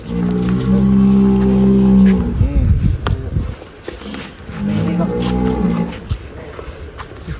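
Loud, drawn-out lowing of very large cattle close by on a farm, two long moos separated by shuffling and rustling noise.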